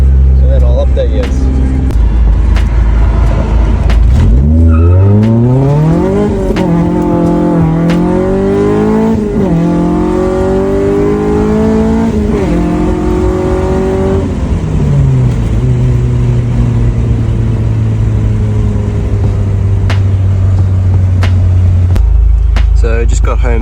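A K-swapped car out on a test drive, its engine loud and close as it revs up through rising and falling gear pulls, then settles to a steady drone before easing off near the end.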